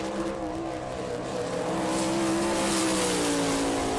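A sprint car engine roars steadily through a qualifying lap at the Rossburg, Ohio dirt track during an All Star Circuit of Champions weekend, loud and sustained with a rising pitch as the car accelerates, and no one speaking.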